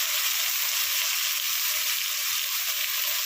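Ground spice paste with salt and turmeric frying in a pan for a prawn and taro flower dish, giving a loud, steady, hissing sizzle with faint soft stirring knocks underneath, and no voices.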